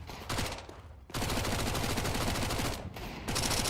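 Rapid bursts of MAC-10 submachine gunfire in a competitive shooter video game, loud and dense automatic fire with a short pause in the middle before the shooting resumes.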